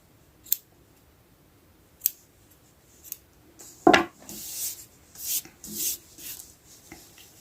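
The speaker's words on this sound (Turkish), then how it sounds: "Beyaz ipi kesiyorum." Small scissors snip white yarn during a crochet project, giving a few crisp, close clicks spaced apart and then a quick flurry of rustling cuts and handling noise.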